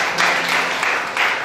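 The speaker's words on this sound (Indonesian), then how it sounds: "Jadi kita berikan tepuk tangan dulu buat mereka." Church congregation applauding guests with a short burst of steady clapping at moderate volume, filling the room evenly for about a second and a half.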